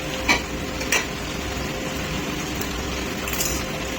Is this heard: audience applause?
no